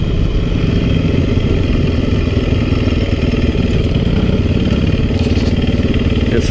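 A KTM 50 dirt bike engine buzzes loudly and steadily close by, a continuous rattling drone throughout with no voices.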